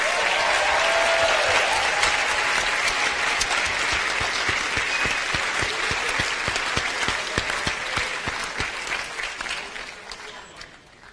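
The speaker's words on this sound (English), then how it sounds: "I think you should give yourselves another huge round of applause." Graduates and guests at a winter graduation ceremony give a long, dense round of applause that fills the hall, then thins and fades out toward the end.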